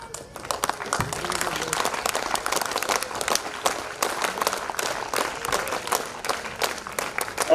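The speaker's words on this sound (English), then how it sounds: "let's give a big round of applause" A big round of applause from the audience at a university alumni meet, many hands clapping in a lively, fairly loud burst that holds steady and swells slightly at the end.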